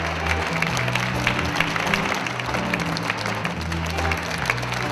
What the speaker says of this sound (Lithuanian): Plokim labai, labai, labai.